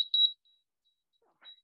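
A workout timer sounds a sharp, high electronic beep twice in quick succession, followed by a fainter beep after a short silence.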